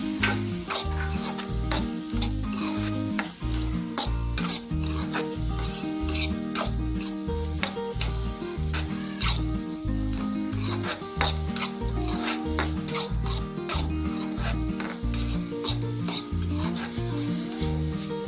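A utensil stirs a sautéed mixture with grated coconut in a pan in rapid, rhythmic rasping scrapes over a faint frying sizzle, close and continuous.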